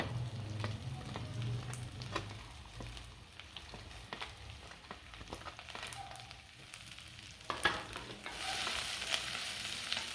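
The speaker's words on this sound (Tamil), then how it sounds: "இந்த கேரட்டையும் பீன்ஸையும் சேர்த்து போட்டு வேக வச்சுக்கலாம் வதக்கி" Carrots and beans sautéing in a pan for an evening bread upma, a soft steady sizzle with scattered clicks and stirring taps, growing louder near the end, no one speaking.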